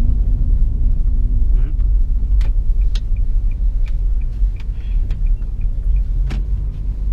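A 2021 Nissan Versa drives uphill through city traffic, its engine and road noise forming a loud, steady low rumble with a few faint ticks and passing sounds on top.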